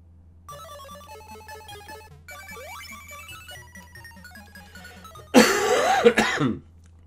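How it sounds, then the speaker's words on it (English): Person with a lingering cough from a cold, a short loud cluster of two or three harsh close coughs breaking in over quiet retro arcade game music from The New Zealand Story. "It's just the cough really that's kind of lingering on, which is quite annoying."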